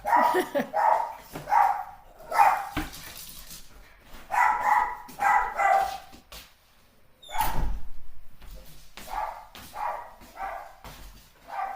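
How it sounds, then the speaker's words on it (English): A dog barks indoors in repeated bursts of several sharp barks, fairly close and loud, with a single door thud partway through and quiet gaps between the volleys. "Sorry, it's my dog."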